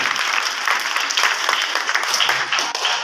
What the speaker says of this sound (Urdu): زوردار تالیاں خدا کے پاس ہوتی ہیں، اپنے ہاتھوں میں لگائیں